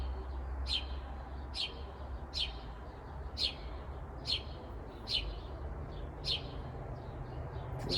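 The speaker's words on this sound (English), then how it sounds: "I will allow you to listen to the birds" A single bird repeats a short, bright chirp about once a second, steady and fairly clear over a low, constant background hum.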